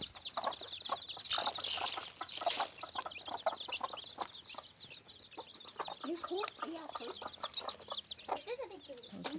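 Chicks hatched only four to five hours earlier chirp and peep steadily in a coop, a dense, continuous chorus of high calls close by, with faint background voices and occasional brief lower sounds.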